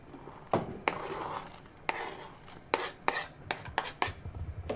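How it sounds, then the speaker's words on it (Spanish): Watercress being chopped on a board in a home kitchen, a series of sharp knife strikes in an irregular rhythm, some quick clusters, close and clear with no talk. "Que yo ya estoy acabando de picar."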